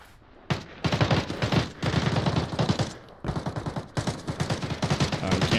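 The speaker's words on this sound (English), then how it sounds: "A lot of shots going off over there." Bursts of rapid automatic gunfire in the game Arena Breakout: Infinite, several long volleys separated by brief gaps, loud and sharp.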